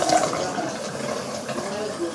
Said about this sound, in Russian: И ждем, пока наполнится бойлер.